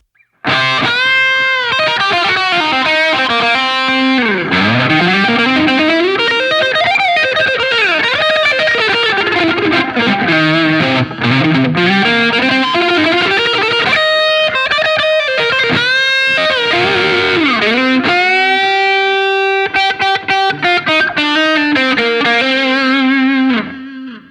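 Distorted electric guitar through a Line 6 POD GO on a Brit 2203 amp preset with Scream 808 tube screamer, simple delay, room reverb and a 4x12 Greenback 30 cabinet, playing sustained bends and chords that ring out loud and steady.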